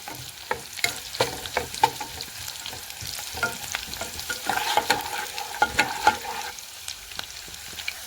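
Onions frying in hot oil in a wok sizzle continuously up close, broken by repeated sharp scrapes and knocks of a spatula stirring them.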